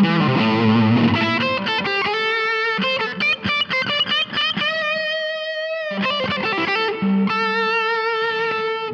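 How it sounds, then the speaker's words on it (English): A distorted electric guitar with single-coil pickups through a Yamaha THR10-C amp plays a thick, sustained lead line with bent and held notes, loud and close, with no other instruments or voices. "it still has enough to give you a really nice, thick lead sound"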